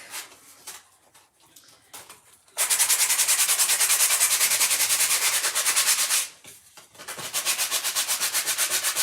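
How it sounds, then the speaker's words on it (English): Steady, rough scratching of sandpaper strokes on wood, loud and close, with a brief pause before the rhythmic rubbing resumes. "So I'm just going to sand it really quick."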